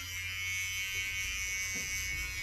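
Electric hair clippers buzz steadily up close while trimming the small hairs along the hairline edges, a continuous high, fairly quiet hum with slight changes as the blades move.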